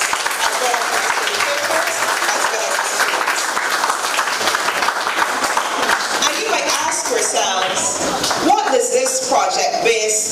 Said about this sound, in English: please give the team at the ministry a round of applause